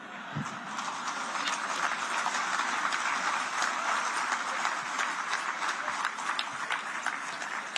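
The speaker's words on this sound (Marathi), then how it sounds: "प्रत्येक वाक्याला आणि प्रत्येक शब्दाला टाळ्या वाजायला लागले तर माझी पंचायत आहे" Sustained applause from a crowd at a political rally fills the whole stretch, dense and steady with scattered sharper claps and no pauses.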